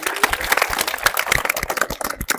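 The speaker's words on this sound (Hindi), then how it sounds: "ताली नहीं बजाओगे इसके लिए?" An indoor audience claps, dense and fairly loud for a couple of seconds, irregular overlapping hand claps with no voices over them.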